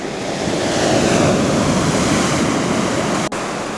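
Sea waves wash onto a beach in a continuous loud roar of surf, with steady broadband hiss and some wind buffeting the microphone, no voices present.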